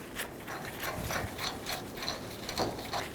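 A wrench ratchet clicks in quick, uneven bursts while tightening the new nut on a rear shock mount of a 2010-16 Buick LaCrosse, close up and fairly quiet, with no talk.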